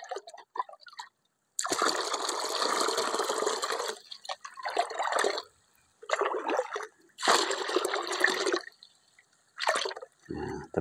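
Medicine being stirred into fish pond water makes bursts of sloshing, trickling and splashing, close and fairly quiet, separated by short pauses.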